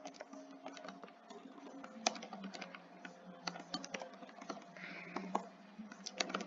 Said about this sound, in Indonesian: kita ketik aja ya semuanya